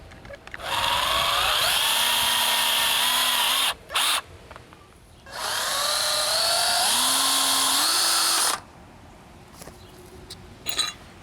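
A power drill drives lag screws into the 2x4 frame of a sagging fence gate, whining loudly in two long sustained runs of about three seconds each, the motor pitch rising and straining as each screw seats, with short gaps between.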